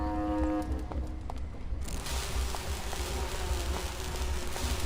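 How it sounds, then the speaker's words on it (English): Bees buzz in the Grim Fandango video game, a steady insect drone that fills the scene after a brief tonal sound at the start, moderately loud with no talking. "These bees don't seem too busy."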